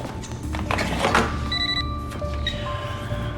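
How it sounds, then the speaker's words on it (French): A telephone rings indoors with electronic bell tones that repeat over a busy room background. The sound is clearly audible and moderately loud. "Zach, laisse faire le téléphone."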